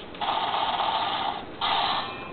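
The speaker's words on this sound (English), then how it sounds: "The chopping sound, which was the last sound you heard" Electronic chopping effect from a DX DenGasher toy in axe form: a bandlimited, tinny burst of noise that runs steadily, then surges again in a second louder phrase, played alone.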